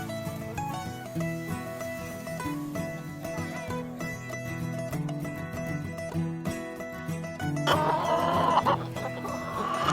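Farm chickens clucking and murmuring together close by in a steady busy chorus, with one sharper louder squawk near the end.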